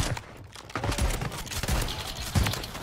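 Kar98 rifle fire in a video game, heard as several muffled thumping reports amid a busy, noisy firefight, with distant clattering in the background.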